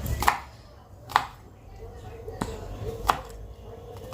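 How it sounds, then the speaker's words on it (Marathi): A knife chops garlic finely on a board in sharp, separate knocks, about four or five spaced strikes over a quiet home background. "लसूण कट करतोय मस्त बारीक बारीक कर"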